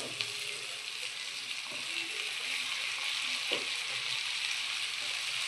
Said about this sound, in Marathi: तो चांगला मिक्स झाल्यानंतर आपण 4 बटाटे जे धुवून कापून घेतलेले आहेत